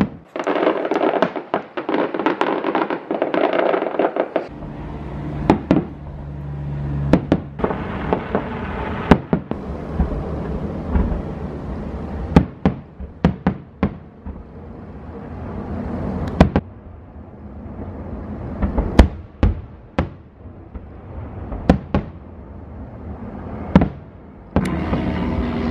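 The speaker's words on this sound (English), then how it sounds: "This is show of fireworks. This is contest of fireworks." An international fireworks contest show outdoors, with a long run of loud booms and sharp cracks, some in quick clusters and some spaced apart, over a constant crowd-like rumble and crackling.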